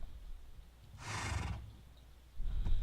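A horse in the video game Minecraft gives a single short neigh, a brief whinny burst standing alone over quiet background, followed by a soft low thump.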